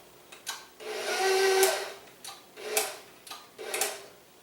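A planetary stand mixer works Toll House cookie dough, its beater thumping around the bowl in uneven, whirring pulses that swell and fade, close by with no talk.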